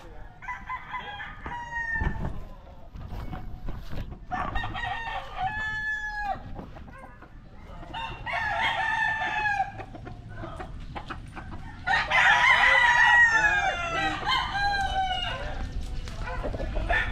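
Gamecock roosters crow outdoors in the morning in the Philippines, several overlapping calls of varying loudness, some near and some farther off, with clucking between them.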